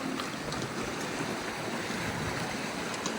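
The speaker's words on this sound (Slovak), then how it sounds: "Vyzerá to tak, že pôjdeme asi cez potok. Čiže koník sa ide brodiť." A horse wades across a stream in Kyrgyzstan, and its legs stir up continuous splashing and rushing water close by, with no voices.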